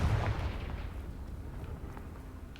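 A Confringo fire spell explodes in Hogwarts Legacy: a single deep boom right at the start, followed by a low rumble that slowly fades away, with no speech.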